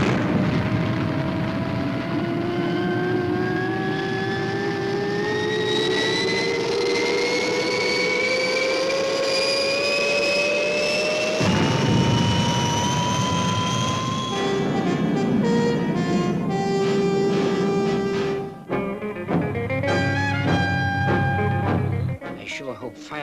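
The Fireball XL5 spacecraft blasts off with a loud engine roar and a rising whine that climbs steadily in pitch, then shifts into a rougher, pulsing thrust near the end.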